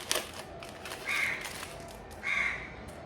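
Two loud crow caws, a second or so apart, ring out over faint outdoor background noise, with a short sharp knock at the start.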